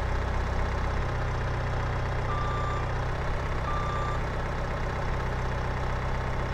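A video-game skid steer's engine drones steadily at idle while its reversing alarm beeps in a regular pattern, both loud and close, with no talking.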